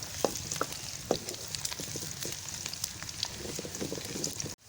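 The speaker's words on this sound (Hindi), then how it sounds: "प्याज मेरे लाइट लाइट ब्राउन हो रहे हैं, साथ साथ मैं चम्मच हिला रही हूँ और आग भी बहुत अच्छी से लग गई है।" Onions browning in a pan over an open fire while a spoon stirs them, a steady soft sizzle with scattered clinks and scrapes, close and quiet, no talking.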